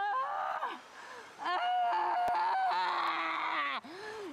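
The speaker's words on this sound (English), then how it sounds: "that scream of agony" A woman slammed to the floor during a class screams in agony, letting out several loud, drawn-out wails that rise and fall, broken by short gasps.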